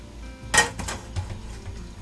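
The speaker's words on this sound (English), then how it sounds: "So stir this around." A utensil clinks against a pan while food is stirred in a small boat galley, one sharp metallic knock followed by softer scraping and rattling, close and without talk.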